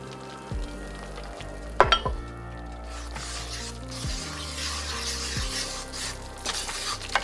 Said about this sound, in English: I'm basically cooking the flour, making the roux